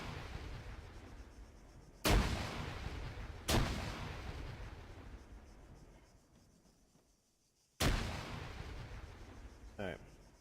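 Frag grenades in ARMA 3 explode one after another, three sharp, loud blasts each trailing off into a long rumbling decay, separated by quieter gaps with a brief later thump.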